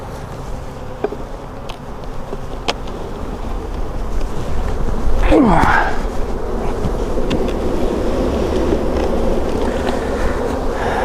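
An aggressive honeybee colony, disturbed while a broken hive box is swapped, buzzes in a steady loud drone close to the microphone, with wind noise and a brief rising whine as a bee passes near.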